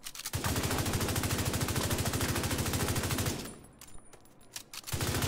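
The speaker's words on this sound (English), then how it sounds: "Let's put some headshots into this," Rapid automatic gunfire from a Bighorn rifle in The Division 2 video game: a long, steady, loud stream of shots, a brief lull with scattered sounds, then the firing resumes.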